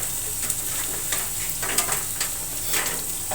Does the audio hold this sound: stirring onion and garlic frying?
yes